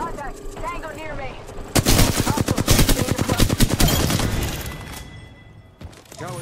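Apex Legends gunfire: a loud burst of rapid automatic shots in dense, rhythmic succession lasting a few seconds, then tapering, with a voice talking before and around the shooting.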